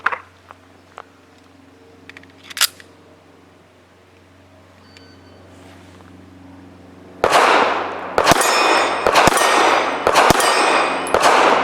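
Several sharp gunshots from an S&W SW1911 9mm pistol loaded with Remington 147 grain subsonic HTP rounds, fired in a quick irregular string, each followed by a metallic clang off a steel target, after a few quiet seconds of faint ambient noise.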